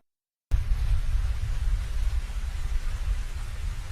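Steady heavy rain begins abruptly after a moment of silence and pours continuously, a dense, even hiss with a deep rumbling undertone.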